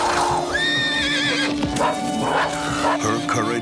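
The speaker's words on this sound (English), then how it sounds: "Calm down, you crazy horse!" A horse neighs loudly and close in a dramatic scene, giving a wavering high whinny followed by snorts and shorter neighs, over steady background noise.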